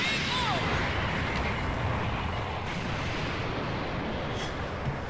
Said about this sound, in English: That is also cannon.